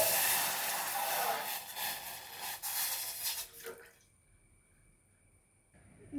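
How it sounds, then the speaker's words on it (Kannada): Two glasses of water poured onto a glass of sugar in a pan for syrup, a close, steady splashing pour lasting about four seconds before cutting to near silence. "2 ಗ್ಲಾಸ್ ನೀರು ಹಾಕ್ತೇನೆ."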